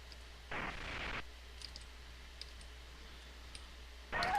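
Keyboard keys click in a few faint, scattered taps against a quiet background, with two short bursts of broadband noise.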